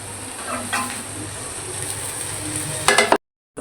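Egg-dipped bread slices fry in a pan with a steady, close sizzle that holds level throughout, a few brighter crackles and scrapes near the end before the sound cuts off abruptly.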